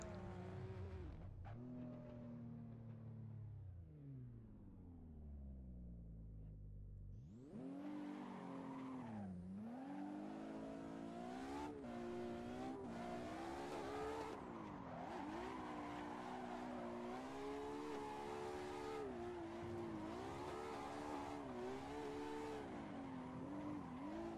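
A Nissan S14 drift car with a VR38 GTR engine in Assetto Corsa revs and drops, then roars hard at high revs with shifting pitch and tire squeal, loud and continuous throughout.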